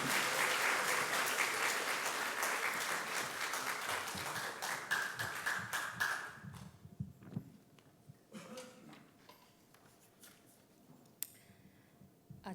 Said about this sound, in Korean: 우리 앞에 나오실 때 우리 박수로 한번 환영했으면 좋겠습니다.